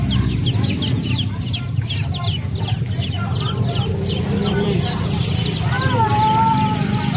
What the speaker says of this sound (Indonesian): Ada ayam warna-warni.